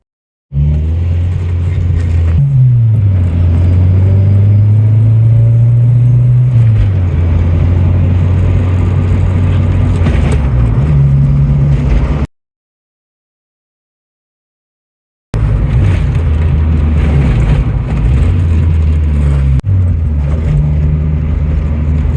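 Honda Integra on a test drive after a shifter install, loud steady engine drone with rising and falling revs as gears change, a brief gap of silence midway, then continued driving.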